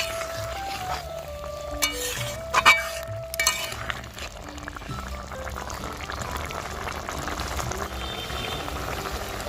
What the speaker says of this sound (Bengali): এই যে বেগুন আলুর সবজিটা বসিয়ে দিলাম, আর শুটকি মাছ দিয়ে বসালাম